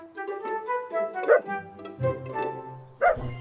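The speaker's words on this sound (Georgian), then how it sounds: "ძაღლი" A dog barks and yips in a few short, whiny bursts spread over a few seconds, fairly close.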